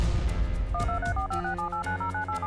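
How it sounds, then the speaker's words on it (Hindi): A phone rings with a loud electronic ringtone of alternating beeping tones that starts a moment in and repeats steadily over a low background bed. "विराज का फोन है।"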